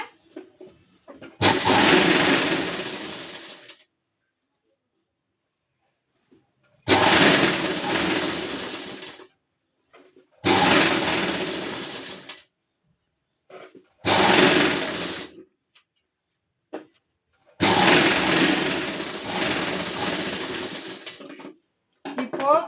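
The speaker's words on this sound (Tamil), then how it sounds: "இதுலயே 2 தையல் போட்டுக்கோங்க." A sewing machine stitches a blouse in five separate bursts of steady, close whirring, each a few seconds long with silent pauses between and no voices.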